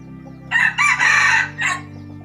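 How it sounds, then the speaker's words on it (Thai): A rooster crows once, loud and close, a full rising-and-falling call over a low steady hum. "นี่คือเสียงไก่"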